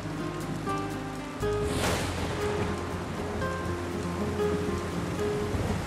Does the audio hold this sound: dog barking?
no